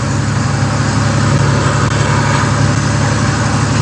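A loaded semi truck's engine roars at a loud, steady drone with a deep low rumble, constant and unbroken from the driver's view, with no voices.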